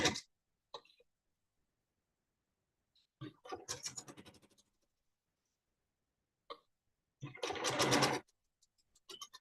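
A sewing machine chain-pieces quilt pieces in two short bursts of rapid stitching, close and quiet, with small clicks and taps in the silent gaps between runs.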